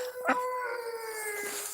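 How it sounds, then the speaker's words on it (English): A dog howls outside in the snow, one drawn-out wavering howl that rises and then holds, fairly clear against quiet surroundings. "Oh, that's my dog. He says I'm cold."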